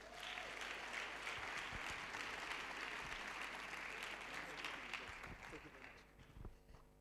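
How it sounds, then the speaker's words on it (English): An audience at a youth week event claps for someone joining the stage: dense, sustained applause that holds steady for several seconds, then thins and fades out. "Please give him a round of applause."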